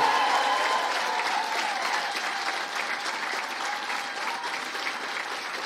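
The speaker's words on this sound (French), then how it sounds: "vous méritez encore toutes et tous une bonne main d'applaudissements et des cris de joie" Sustained audience applause fills a university graduation ceremony hall in Gatineau, a dense, steady wash of many hands clapping at once that holds at a constant level throughout.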